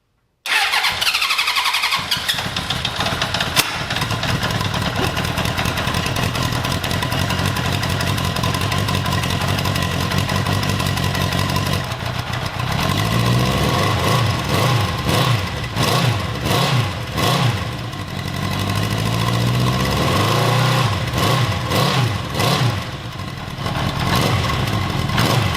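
A 1979 Honda CB750 motorcycle engine cold-starts with the choke on and settles into a steady, slightly uneven idle, loud and close throughout, with no talk.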